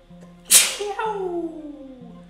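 One sharp, loud human sneeze bursts out, followed by a falling vocal tail, over a quiet background with a faint steady tone.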